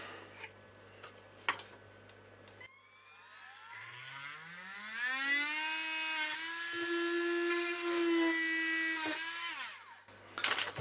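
A Dremel rotary tool drills holes in an electronic kit's circuit board. It starts with a few handling clicks, spins up to a rising whine, holds a steady high pitch and then winds down, close by with no speech.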